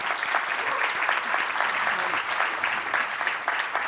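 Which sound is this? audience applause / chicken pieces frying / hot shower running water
audience applause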